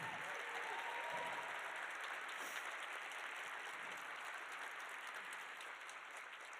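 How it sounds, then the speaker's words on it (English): Audience applause at a medical Match Day event, steady, dense clapping from a crowd that continues evenly throughout, moderately distant and sustained. "Let's give them a round of applause."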